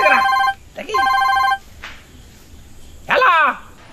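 A telephone rings in short harmonic bursts, two long rings then a third after a pause, loud and close in a comic Bangladeshi drama scene with brief voice-like sounds between.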